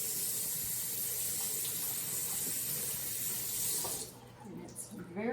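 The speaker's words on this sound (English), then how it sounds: "And then I rinse it." Water from a tap runs steadily into a bottle to rinse it after homemade laundry detergent is made, a constant close hiss that gives way near the end to sloshing and gurgling as the bottle is rinsed.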